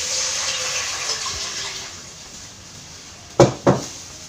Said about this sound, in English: add half liter of water into the pan.